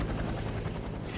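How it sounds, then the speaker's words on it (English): Helicopter in the video game FEAR 3, a loud, close, steady rotor thrum with dense low-end chop filling the short stretch, no talking. "Get to the chopper!"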